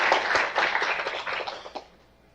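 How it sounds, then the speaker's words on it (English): A short burst of applause from a small group at a cardiothoracic surgery lecture, many hands clapping together before trailing off into quiet. "let's sort of give a round of applause for the Mott family"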